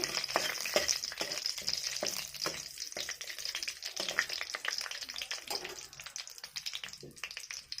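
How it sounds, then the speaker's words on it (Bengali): Whole spices fry in oil in a pan: bay leaves, dried chilies, clove, cinnamon and cardamom. A steady hiss runs under repeated scraping and tapping from stirring. "2 পিস লঙ্কা, আর লবঙ্গ, ডালচিনি, ছোটো এলাচ একসাথে দিয়ে দিলাম। এগুলোকে একটু ভেজে"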